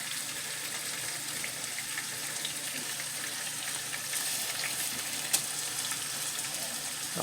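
Cube steaks browning in a frying pan, a steady close sizzle with a few sharp pops near the end.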